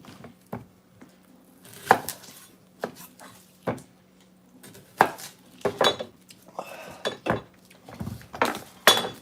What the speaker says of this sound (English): Now I'm gonna chop up my onions.